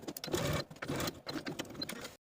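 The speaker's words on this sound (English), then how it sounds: "Then we're going to sew from one transfer dot to the other, right along the basting line, doing this for both back pant pieces." A sewing machine stitches back pant pieces along a basting line, a close rapid mechanical whir running in three bursts with brief pauses between.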